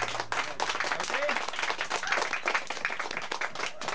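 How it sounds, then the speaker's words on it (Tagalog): Church congregation clapping along during a worship service, quick and fairly rhythmic hand claps that sound somewhat distant, with a voice carrying over them. "Ano naman malakas sa palakpak para kay Lord niyan?"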